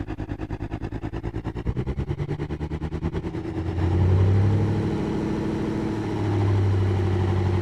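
A turbocharged 392 engine in Automation Tycoon cranks over with rapid rhythmic starter pulses for several seconds, then catches and settles into a loud, deep, lumpy idle with a slight cam lope and a brief rev swell, close and alone.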